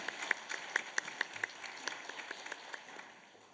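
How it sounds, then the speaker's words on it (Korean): A few people clap in a church service, a faint, sparse scatter of distinct claps at an uneven rhythm that tapers off in a quiet room. "하나님께 영광의 박수 올립시다"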